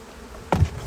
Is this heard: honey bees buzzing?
yes